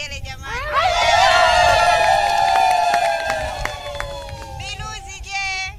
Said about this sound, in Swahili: Nasikia vigelegele jamani